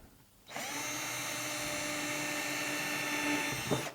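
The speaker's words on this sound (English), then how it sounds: "I'm going to just drill those through too" A power drill bores 7mm holes through wood for a marimba frame, running as one steady, loud whine for about three seconds after a quiet start, then cutting off.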